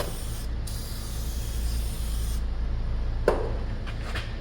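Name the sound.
spraying Fluid Film anti-corrosion spray on brake parts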